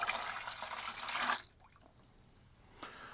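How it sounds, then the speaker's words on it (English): Evaporust rust remover poured and dripped from a heavy bin down into a bucket, heard as a close, steady splashing stream that stops abruptly, followed by quiet and a faint drip. "the bin's too damn heavy, so I'm dripping it like this"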